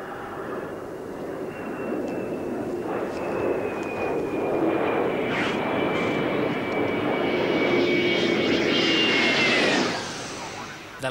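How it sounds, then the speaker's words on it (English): A German Phantom fighter jet flying on one engine roars steadily overhead with a whining engine tone that slowly drops in pitch, loud and sustained before fading near the end. "The jet in trouble is a German Phantom."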